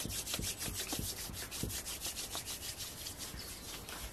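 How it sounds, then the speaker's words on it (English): Hands rubbing briskly together during a meditation, a rapid rhythmic swishing of skin on skin, close and fairly quiet, with no talking over it. "So we're going to take our hands and rub them together."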